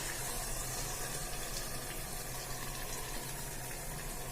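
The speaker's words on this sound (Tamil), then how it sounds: "கொஞ்சம் தண்ணி விட்டுக்கலாம்." Continuous rushing pour of water into a cooking pot, steady and close, with no voices.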